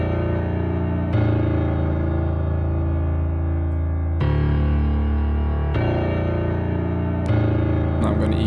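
A trap beat plays loud and continuous, deep bass and piano chords washed in Valhalla VintageVerb room-mode reverb, with distinct section changes every few seconds.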